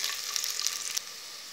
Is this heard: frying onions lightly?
yes